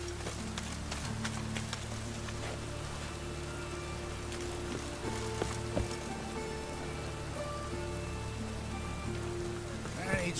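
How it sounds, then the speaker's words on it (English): Steady rain falls in The Witcher 3 video game, a continuous close hiss of drops on surfaces running throughout, with low game music and ambient tones beneath and a few faint knocks. "And it's raining again"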